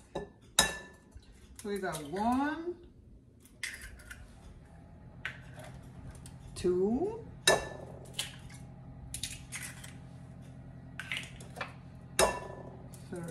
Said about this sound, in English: All right, let's break the eggs.